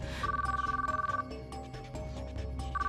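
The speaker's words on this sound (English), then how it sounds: "The phone rang and rang." Phone ringing in the visual novel Chaos;Child, a repeating electronic ringtone pulsing over a steady musical background, loud and close with short breaks between rings.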